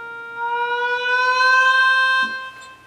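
A synthesizer holds a sustained bright tone rich in harmonics while a breath controller opens its filter, the sound swelling and brightening, then fading at the end.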